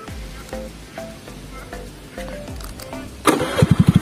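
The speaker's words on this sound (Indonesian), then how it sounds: "Jadi kita langsung saja men-starter si motor ini." A 2014 Honda Scoopy FI scooter with a keyless smart key system: a few faint clicks, then the electric starter whirs and the engine catches, settling into a close, rapid, pulsing idle.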